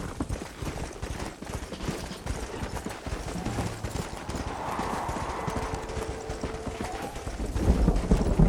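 A horse gallops through a Western open-world game, its hooves clip-clopping in a quick, steady rhythm across the whole stretch, moderately loud with faint ambient background and a brief whinny-like tone.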